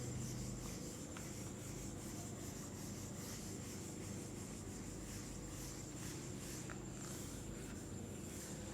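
A blackboard duster rubs chalk writing off a classroom board in a steady continuous scrubbing, fairly quiet and close, with no talking over it.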